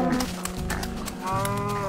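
A Minecraft cow lets out two drawn-out moos, the second lower and steadier, loud and close, with no talk over them.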